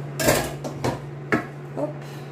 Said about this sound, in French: Bon, je vais ouvrir mon four.